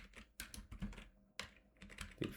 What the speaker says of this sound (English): And now if I type pip freeze